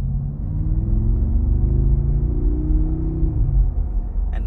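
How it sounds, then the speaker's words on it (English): A 2019 Mercedes-AMG G63 Edition 1 V8 runs in Sport Plus mode with exhaust flaps open, a deep, steady, throaty rumble that swells slightly and holds close and loud. "instantly the exhaust flaps open up, the whole thing gets louder, and the tone is just so unique"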